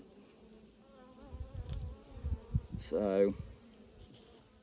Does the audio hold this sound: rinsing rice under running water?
no